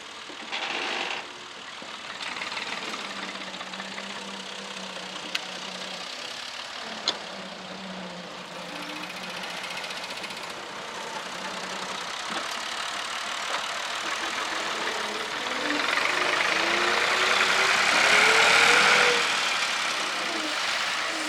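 A steady tractor engine idles and rumbles throughout at a brickmaking site, its drone swelling louder toward the end with a higher whine mixed in.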